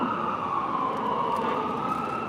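An ambulance siren on a Miami street, a steady, wailing tone heard at moderate distance over low traffic rumble, continuous with no talk.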